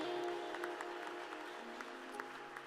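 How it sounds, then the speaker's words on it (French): A church congregation applauds steadily, a faint, even patter of many hands clapping with no pauses. "Est-ce que nous pouvons acclamer pour la gloire de Dieu?"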